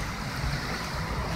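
Floodwater from Storm Beryl's rains flows through a city street, a steady close rushing wash of water with a low rumble underneath and no voices.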